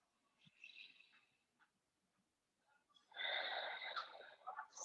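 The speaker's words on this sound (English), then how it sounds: "In and out with that breath." Steady, deep breathing during a yoga session, an airy inhale followed by a longer, louder exhale, close and slightly wheezy, with no talk over it.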